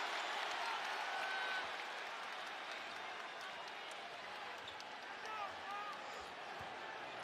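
A basketball arena crowd roars after a San Antonio Spurs turnover, a broad, continuous wash of cheering and applause heard faintly at a distance, with no single voice standing out.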